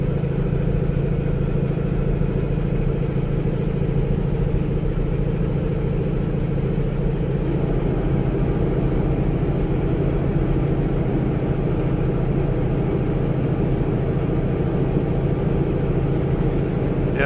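A Cummins diesel truck engine cruising at about 1600 RPM in 9th gear on the freeway, a steady low droning rumble with constant road noise, unbroken throughout.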